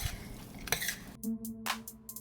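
Italian sausage stirred in a pot for spaghetti, giving a few close metallic scrapes and clanks of a utensil against the pot, brief and fairly quiet.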